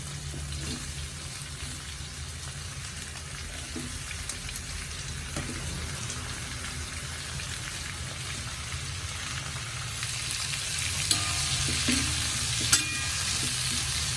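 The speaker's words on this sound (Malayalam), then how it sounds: "ഇനി സവാള 4 അരിഞ്ഞു വെച്ചത് ഇട്ട് കൊടുക്കാം" Sliced onions frying in a pan for egg kurma, a soft continuous sizzle with occasional spatula stirs, quiet and steady throughout and growing a little louder and brighter toward the end.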